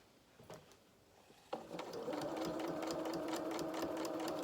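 A domestic sewing machine stitching fabric around a curve, a faint tap or two before a steady rapid whirring rhythm of the needle starts and runs on without a break, close and fairly quiet.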